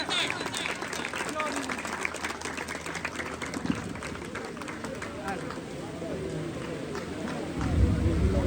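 An audience applauding to welcome a performer at a music gathering, a dense steady clatter of many hands that carries on beneath a voice speaking.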